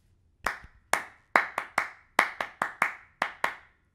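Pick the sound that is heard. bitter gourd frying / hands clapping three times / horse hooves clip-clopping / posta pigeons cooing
hands clapping three times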